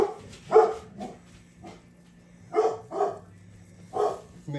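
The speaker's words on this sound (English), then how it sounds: "What are you barking at, buddy?" A pet dog barks indoors in a kitchen during cooking, giving several short, moderately loud barks and yips at irregular intervals over a low background hum.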